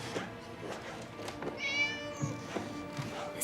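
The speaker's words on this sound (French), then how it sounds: "C'est le chat qui s'appelle Hulda" A cat meows faintly once or twice over a low background hum, fairly quiet and close.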